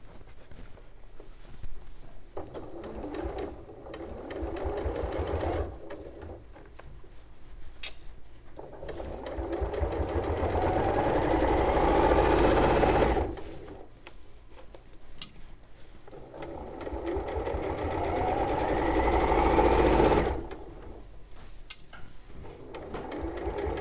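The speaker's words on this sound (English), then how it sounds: "Just looks nicer if you've got a longer stitch for top stitching." A sewing machine topstitches a daffodil quilt with a longer stitch, running in steady mechanical bursts of several seconds separated by brief pauses, close and fairly loud with no talking over it.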